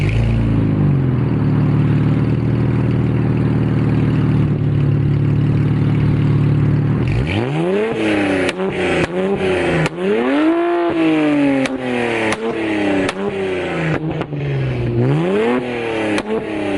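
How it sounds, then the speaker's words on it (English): A car with an aftermarket exhaust, an Infiniti Q60, idles steadily with a deep exhaust burble, then is revved several times in sharp, rising and falling bursts, loud and close. "I'm gonna turn the car on, I'm gonna give it a couple revs."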